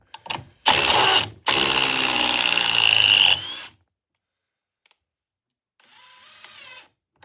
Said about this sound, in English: that's a hydraulic impact driver